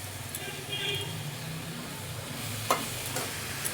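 Chickpea greens being stirred and sautéed in a covered pan, with a low steady sizzle and scraping stirs throughout, a couple of sharper clinks near the end, and faint background voices.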